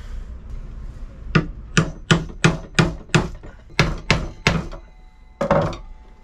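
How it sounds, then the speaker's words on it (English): Chisel struck repeatedly while cutting a hinge recess in wood: about a dozen sharp, close knocks in an irregular rhythm, with brief quiet gaps between strikes and no talking. "Okay, chisel work."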